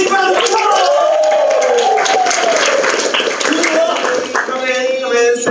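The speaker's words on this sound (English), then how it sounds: "can you give him a big round of applause?" An improv comedy audience claps and cheers in a warm burst of applause as a performer comes on stage, with a voice talking loudly over the clapping throughout.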